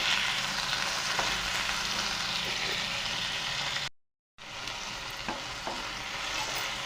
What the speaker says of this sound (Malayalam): നമുക്കിത് നന്നായിട്ടൊന്ന് വഴറ്റിയെടുക്കാം